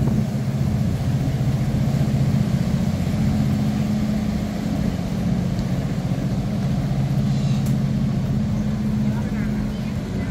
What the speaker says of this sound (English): This is the Klong boat that is on its way to Central World